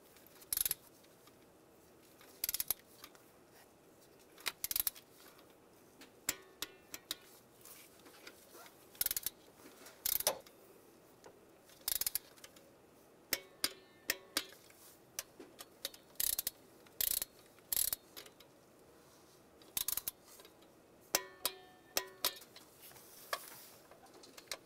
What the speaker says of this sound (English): Now we're going to torque these to 106 inch pounds.